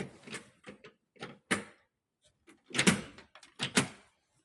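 A Qdoors Trino entrance door with a 95 mm leaf, chrome trim, night latch and deviator lock is worked by hand, giving a series of sharp nearby clunks, clicks and latch snaps separated by short pauses, with no talking.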